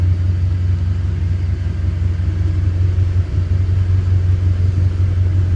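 A small motorboat engine drones steadily with a strong low rumble as the throttle lever is pushed forward and the boat accelerates, loud and continuous with no talk.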